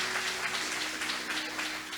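A church congregation claps for the Lord during a Portuguese-language service, producing dense, steady, fairly loud applause that fills the whole moment with no voice over it.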